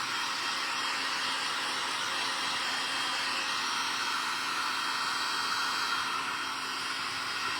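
A dryer blows a steady, loud rush of air over freshly silkscreened ink on a canvas tote bag, a continuous hiss with no breaks and no talking.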